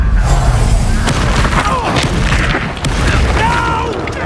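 Confringo blasting spell explosions in the Hogwarts Legacy video game: loud booming bursts over continuous combat noise, with whooshing spell effects.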